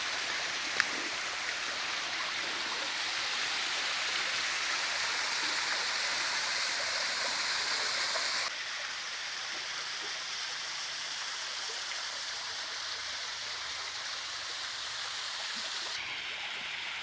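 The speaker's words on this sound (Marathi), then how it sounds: "हे वॉटरफॉल आहे ना" Steady rushing water from the waterfall at Kondeshwar temple near Badlapur, a broad continuous roar close by, easing slightly partway through but never stopping.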